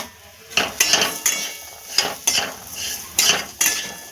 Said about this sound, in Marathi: आता हे मिश्रण आपलं परतून झाले